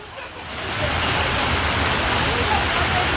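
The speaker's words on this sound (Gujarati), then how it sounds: "વરસાદ આવ્યો." Rain falls in Patan, Gujarat, during a Navratri evening. It sets in as a hiss that swells quickly into a steady, dense roar of drops on surfaces nearby.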